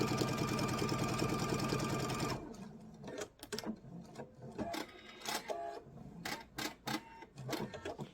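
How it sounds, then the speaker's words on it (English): A sewing machine stitches a quilted mug rug, running steadily for about two seconds, then breaking into short, stop-start bursts with clicks and pauses in between, close and fairly quiet. "It's because I was trying to do one-handed sewing."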